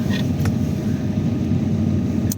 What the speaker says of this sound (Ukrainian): так що машина гріється